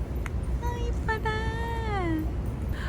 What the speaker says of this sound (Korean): 와, 대구에서도 고양이를 만나네요.